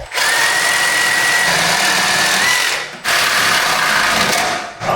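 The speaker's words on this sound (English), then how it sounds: "right now, let's take these bolts off here" Bolts on a cheap homemade rock crawler go-kart are run off with a powered ratchet, giving two long, loud, close whirring bursts separated by a brief pause.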